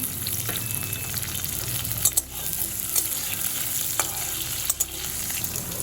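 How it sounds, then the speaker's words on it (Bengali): Potatoes with slit green chillies frying in a pan over a medium flame, a steady close sizzle with a few brief clinks and scrapes. "আলুটা মিডিয়াম ফ্লেমে 2 মিনিট মতো ভেজে নিয়েছি।"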